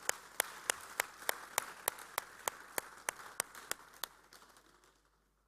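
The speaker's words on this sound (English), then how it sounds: "A big round of applause for them." Applause at a student-organized economics conference, heard as a run of evenly spaced, sharp, echoing claps that slowly fade, with a soft crowd murmur underneath.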